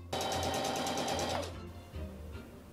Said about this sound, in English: before I officially sew the first seam on the dress, I want to test out on a little scrap piece of fabric